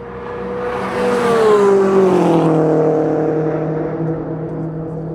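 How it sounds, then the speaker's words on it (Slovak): A Subaru Impreza race car with a boxer engine sweeps past at a racing venue, its loud engine note rising as it nears and then dropping away as it recedes, with no talking. "tá Impreza má krásny zvuk toho boxeru"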